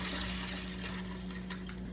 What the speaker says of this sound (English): so I'm going to pop my pasta in there, and I'm going to do 3 cups of water.